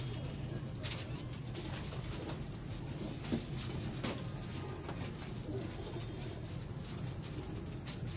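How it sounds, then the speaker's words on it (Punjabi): Pigeons at a bird market coo softly and intermittently over a steady low background hum, with no talk in the clip. "ਅੱਛਾ ਕਬੂਤਰ ਹੈ ਇਹ"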